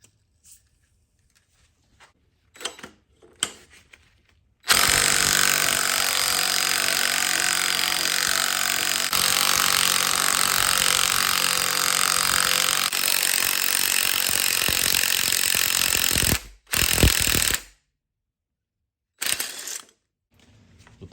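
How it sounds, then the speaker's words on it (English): Harmonic balancer being worked off a 1980s Olds 403 V8 engine with tools: a long, loud, continuous whirring grind lasting about twelve seconds, set between short clanks and taps of metal tools, with no talking. "let's work on getting this balancer off"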